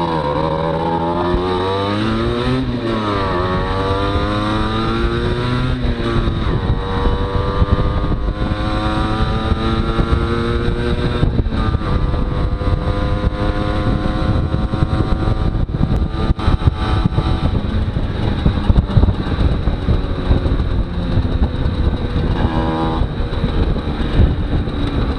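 Cars driving past on a main road beside a bicycle lane, engine and tyre noise rising and falling as vehicles pass close by, continuous loud traffic rumble throughout with no talk.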